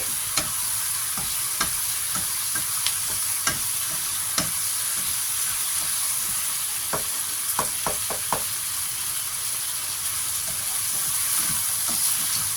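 Fish and snow peas stir-fry in a pan with a constant sizzle, while a utensil scrapes and taps against the metal in irregular clicks, sharper in a quick cluster near the end; no voices.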